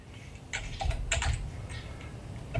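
Rapid bursts of typing on a computer keyboard, close and clear, with clustered keystrokes and brief pauses between words, no voice over it.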